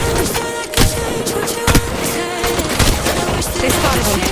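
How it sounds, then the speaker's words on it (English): Dense crossfire in Apex Legends Mobile, loud rapid automatic gunfire rattling almost without pause, with sharper single cracks standing out in the barrage. "Crossfire continues."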